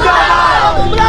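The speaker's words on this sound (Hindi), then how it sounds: "जबरदस्त नारेबाजी की जा रही है" A protest crowd at a road blockade chants slogans loudly and close, a dense mass of shouting voices over a short burst.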